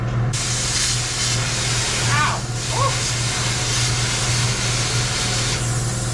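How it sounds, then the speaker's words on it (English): Water sprays steadily from a hose onto burning scrap debris near a cheap plasma cutter setup, a continuous close hiss running throughout with a low steady hum beneath and brief voices breaking in. "Now I gotta hose it down."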